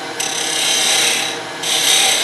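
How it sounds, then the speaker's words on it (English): Sandpaper rubs against a turned wooden gavel ball spinning on a lathe, making a steady, loud rasping hiss. It swells and dips slightly and brightens again partway through, with no talking. "turn this ball on the end and sand it"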